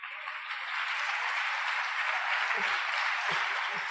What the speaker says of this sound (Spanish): Pedimos un fuerte aplauso